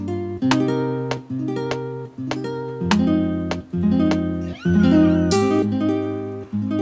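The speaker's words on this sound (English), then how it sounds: "you guys can hear the guitar without anything right now." Clean, dry guitar playing a series of plucked chords with sharp attacks and ringing sustain, no effects, played alone at close range.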